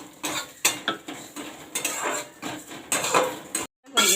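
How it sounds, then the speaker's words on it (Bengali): A utensil clatters and scrapes against a pan while mung dal fries in mustard oil over a low gas flame. Irregular metallic knocks and stirring sounds come up close, with a brief silent gap near the end. "একটু সরষা তেল দিয়ে ভেজে নিচ্ছি"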